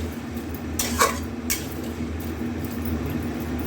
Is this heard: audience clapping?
no